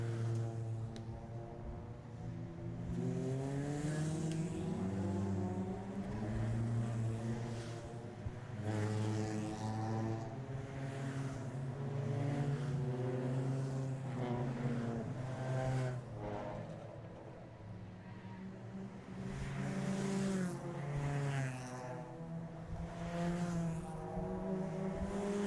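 Circuit race cars running warm-up laps on a wet track at an ICCR round, a continuous engine drone with rising and falling tones as cars pass, heard at a distance and fairly faint, with no voices.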